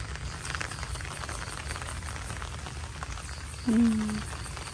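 Steady patter of rain falling outdoors on a rice harvest field, a broad constant hiss with a brief low hum near the end.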